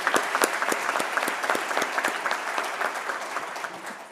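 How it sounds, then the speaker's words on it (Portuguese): An audience of dignitaries and guests at a business awards ceremony in Minas Gerais gives a round of applause, steady dense clapping with a few sharp, close individual claps standing out throughout. "eu solicito, por favor, uma salva de palmas"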